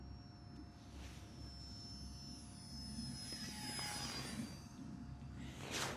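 A small UMX Viper FPV RC jet plane flies toward and over the listener outdoors, its electric ducted-fan whine rising and swelling as it passes close, then fading before a brief second surge near the end.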